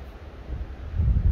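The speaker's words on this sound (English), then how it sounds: "Oh, here comes a gust of wind." Wind gusting across a mountain summit at Mount Laurel, California, a low rumbling buffet against the microphone that swells louder toward the end of the short burst.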